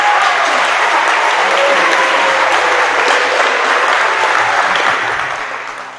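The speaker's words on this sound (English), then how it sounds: "Give her a round of applause." Loud, dense audience applause at a school assembly after a mental health talk, steady for about five seconds and then tapering off.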